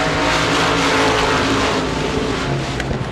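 Modified race cars roar at Devils Bowl Speedway as the green flag drops, a dense, steady wall of engine noise from a pack of cars at full throttle, with no gaps for the whole stretch.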